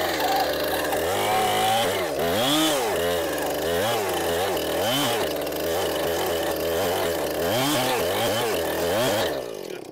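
Chainsaw without a safety blade chipping away at wood to free a centerpiece, loud and close, its engine rising and falling in repeated revving surges as it bites in.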